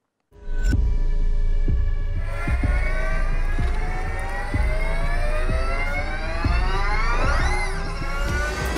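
Onboard a Beltoise BT01, an all-electric GT race car lapping a circuit: a loud, steady electric motor whine climbs and falls in pitch through the gears of speed, over rhythmic thumps and road rumble, with no talking.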